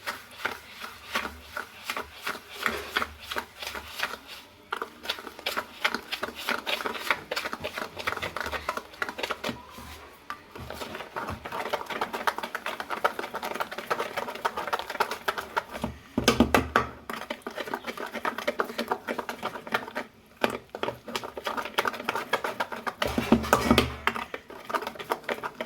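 Rapid steady whisking of mango cake batter thickened with semolina in a bowl, continuous fast scraping clicks that run unbroken for a long stretch with a few louder bumps, no voices.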